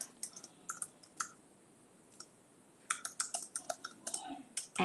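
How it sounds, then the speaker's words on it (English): Computer keyboard typing during a live online webinar, a few scattered clicks followed by a denser run of quick keystrokes, close and fairly quiet with no talking. "I can type those questions for you, Emma, that's no problem. And type."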